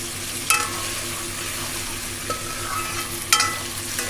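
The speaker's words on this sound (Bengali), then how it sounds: "খুব বেশি রসুনটাকে ভাজবো না" A large garlic clove frying in oil, giving a steady soft sizzle with a couple of sharp stirring clinks from a utensil.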